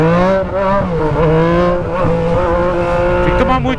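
A Yamaha MT-09 motorcycle with a straight-pipe exhaust accelerates, its loud, raspy engine note rising and wavering steadily across the whole stretch, close by.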